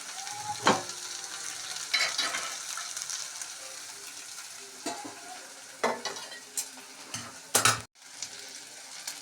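Asafoetida tadka with onion and tomato sizzles in a pan for moong dal, with a soft continuous frying hiss broken by several sharp scrapes and clinks of a spoon stirring against the metal, close and fairly quiet.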